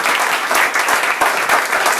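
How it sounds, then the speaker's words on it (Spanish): Dense, steady hand clapping from a crowd, a continuous even patter at close range with no talking. "No me vean esa mujer aplaudiendo sola."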